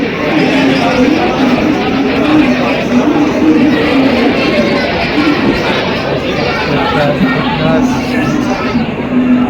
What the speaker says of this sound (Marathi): गर्दी बघा किती आहे